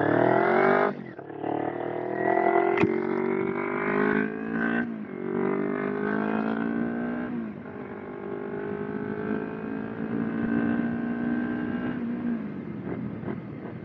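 Kawasaki Ninja 250RR motorcycle ridden at night, its engine note rising and dropping through gear changes with strong harmonic whine, loud and close throughout with a steady wind-rush beneath.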